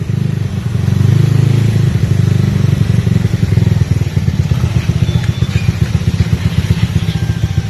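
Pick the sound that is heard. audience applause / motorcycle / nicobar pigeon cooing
motorcycle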